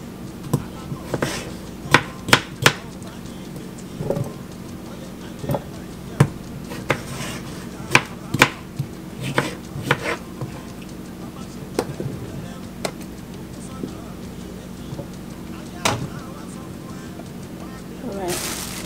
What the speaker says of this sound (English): So I'm just going to cut the cucumbers and put it right in the blender.